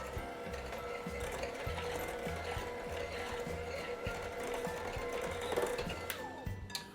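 An electric mixer creams room-temperature butter with a cup of sugar for cupcakes, giving a steady close whir with a regular rhythmic thumping and scraping beneath, with no talking.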